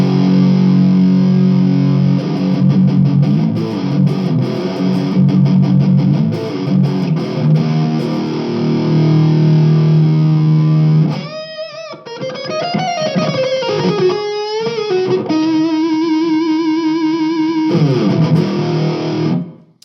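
An instrument plays through a Donner PA speaker with an Arena 2000 effect, giving loud, sustained, distorted tones, first held low notes and then gliding, wavering pitches, continuous for about twenty seconds before cutting off.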